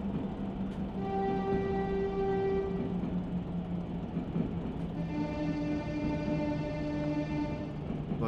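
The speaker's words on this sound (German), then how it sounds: "jetzt haben wir die beiden Hörner gedrückt" Two horns sounded in a 1960s–70s British Rail diesel railcar simulator game, steady sustained horn tones over a continuous rolling train rumble, first one tone then a second overlapping, no talking.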